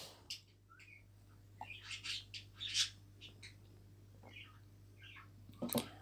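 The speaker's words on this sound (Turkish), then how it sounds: "Bu arada bir tane kuşum var." A small blue pet bird chirps and squawks in short, scattered bursts over a quiet indoor hum, fairly faint and irregular.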